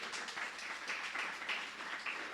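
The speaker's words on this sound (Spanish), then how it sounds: "Dele un aplauso al Señor y vamos a concluir." A church congregation claps together in a rhythmic, fairly loud burst of applause during a Friday sermon service, with close, repeated hand claps and no voices over them.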